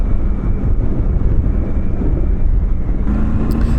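A Triumph Tiger 900 GT Pro adventure motorcycle roars steadily at speed with wind rush, and a quick shifter gear change near the end brings a brief shift in engine note.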